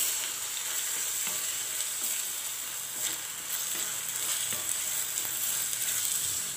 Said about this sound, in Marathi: भगर तेलामध्ये परतून घेतल्यामुळे छान अशी फुलून येते